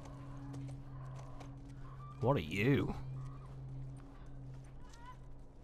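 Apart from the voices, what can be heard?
horse in video game The Last of Us Part II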